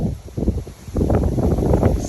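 Gusty wind blusters across a backyard dahlia garden, rumbling against the microphone in low, uneven surges that swell and ease over a couple of seconds, with no voices.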